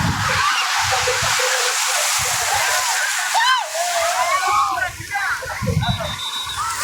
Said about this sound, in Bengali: এটা সবচেয়ে বড় ঢেউ।